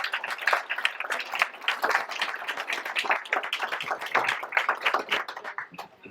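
Audience at an evening history lecture giving a round of applause, a thinner, uneven patter of separate handclaps from a modest crowd, with individual claps standing out across several seconds.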